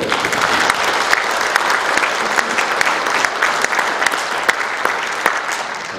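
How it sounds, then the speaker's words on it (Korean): An audience at a mayor's book launch event claps together in sustained, steady applause, a dense roar of hands with sharper individual claps popping out across the whole stretch. "여러분들도 한번 박수 한번 보내시죠"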